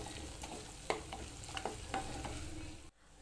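Ginger garlic paste sautéing in a pan, a steady soft sizzle with several scraping stirs of a spoon, fairly quiet and alone, cutting off abruptly near the end.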